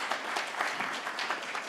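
Steady audience applause at a corporate sustainability report launch, dense clapping from a crowd filling the whole short stretch at even loudness.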